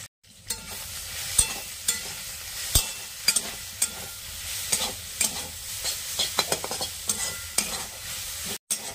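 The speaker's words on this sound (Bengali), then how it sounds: "এবারে থেতো করে রাখা রসুনটা দিয়ে দিচ্ছি।" Crushed garlic and dried red chilli sizzle in hot oil in a wok, with a steady hiss punctuated by repeated scraping and clinking stir strokes, close and fairly loud, no voices.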